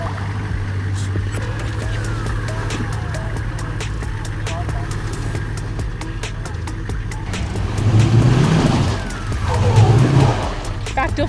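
A V8 Chev four-wheel drive crawls over rocks on a rough NSW 4WD track, its engine rumbling steadily and close up, then revving and roaring twice as it climbs, with scraping and knocks from the terrain.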